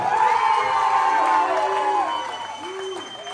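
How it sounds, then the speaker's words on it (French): Audience at a children's judo school show applauding and cheering the yellow team, with whoops and children shouting over clapping, loud at first and easing off toward the end. "On peut applaudir bien fort l'équipe jaune"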